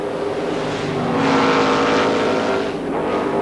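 Formula 5000 race cars compete at Adelaide in 1978, their engines making a loud, continuous roar that swells as they pass close by and then eases slightly.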